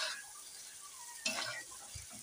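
Meat being stirred and sautéed in a pan, a soft continuous sizzle with scraping stir strokes, one louder burst of stirring about midway through, no talking.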